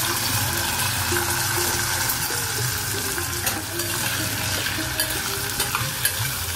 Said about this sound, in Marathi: चांगलं परतून घेऊया आधी तुपावर आपण सुरण